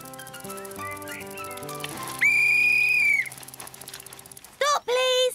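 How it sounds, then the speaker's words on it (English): A whistle is blown in a children's cartoon, one long loud shrill blast followed by two short sharp toots, over light background music. "Trotro, can I play at whistling with you?"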